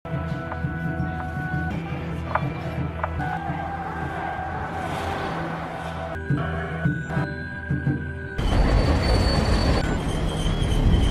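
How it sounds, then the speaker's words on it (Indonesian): A freight train rolls steadily along the rails, wheels clanking and squealing with metallic tones, growing louder and more rushing near the end. "naik kereta barang secara ilegal"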